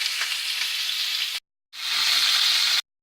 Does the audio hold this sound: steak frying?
yes